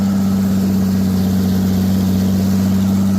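New Holland tractor running in a hay field during second-cutting mowing, a steady loud droning engine hum with a strong low tone, close and unbroken, with no voices.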